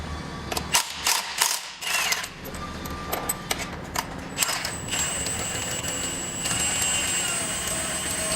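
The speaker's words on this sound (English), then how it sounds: "it's a 22mm socket to remove the primary bolt" A ratchet driving a 22mm socket loosens the primary clutch bolt on a motorcycle, giving bursts of rapid close clicking with metallic clanks and scrapes and steady workshop noise underneath.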